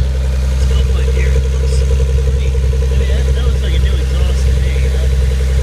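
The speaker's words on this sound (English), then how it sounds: "you can hear the exhaust" A 1979 Mercedes 280SL idles just after a cold start, its exhaust giving a steady, close, even low rumble with a faint pulsing throb that holds unchanged throughout.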